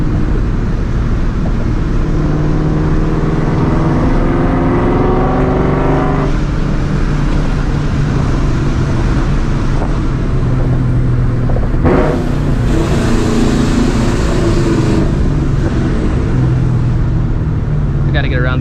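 A straight-piped, supercharged 2004 Ford Mustang GT drives along with a loud, continuous engine drone from inside the car, the pitch rising and falling as it revs and shifts. A voice talks intermittently over the engine.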